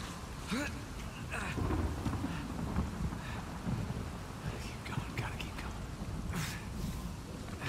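Steady rain with low rolling thunder in a stormy video game scene on the way to an island, with brief crackling accents and a few higher tones over a continuous wash.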